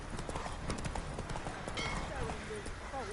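Horse hooves clip-clop in a quick steady rhythm while riding through The Witcher 3: Wild Hunt, with game voices and a brief whinny mixed over the hoofbeats.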